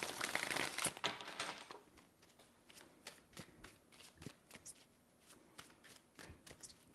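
Tarot cards shuffled in quick riffling bursts, a dense papery flutter at the start followed by scattered crisp slaps and flicks, close and fairly quiet with no talk.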